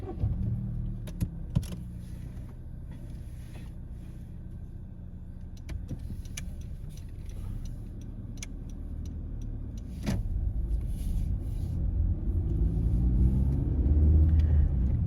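A car pulls away and drives along a test route in Slough, a steady low engine and road rumble inside the cabin, building slightly toward the end, with a few soft clicks and knocks near the start.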